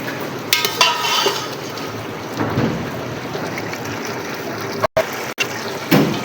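Mutton pulao with potato pieces is stir-fried in a pot, giving a steady close sizzle and stirring scrape with a few louder clanks against the pot.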